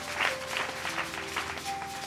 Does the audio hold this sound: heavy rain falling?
no